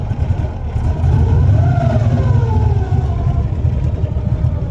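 Cold start of an LT1 V8 with a T56 swapped into a Mustang, no gasket between turbo and manifold: a loud, close, steady engine rumble that swells slightly in the middle as the revs rise and fall.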